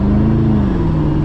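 A Koenigsegg Regera's massive V8 drones steadily from inside the cabin, a loud continuous engine note holding a low pitch that dips slightly as it pulls, with no talk over it.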